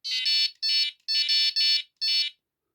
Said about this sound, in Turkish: Böyle değişik bir alarm veriyor